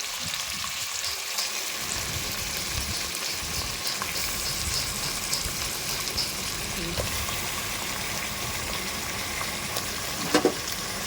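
Mutton liver sizzling steadily in a hot pan as it roasts, a continuous even crackle throughout with a brief clink near the end.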